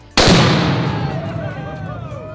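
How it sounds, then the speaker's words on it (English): A single loud, sharp bang of a gunshot striking an exploding target, followed by a long echoing decay that fades over two seconds. "So we're shooting it and it's going to explode?"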